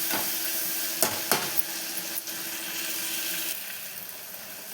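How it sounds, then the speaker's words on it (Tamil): Onions sautéing in a pan for ghee rice, a steady close sizzle and hiss with a few sharp scrapes of stirring, running alone without talk. "இப்போ பாருங்கள், ஆனியன் வந்து நல்லா வதங்கிருச்சு."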